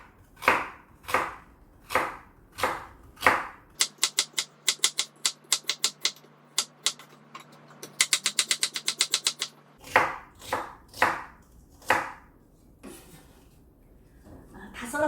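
A knife slices lotus root into 3-4mm rounds on a cutting board: sharp, evenly spaced chops, first slow and deliberate, then quick rapid runs, then slow again, with a short pause near the end.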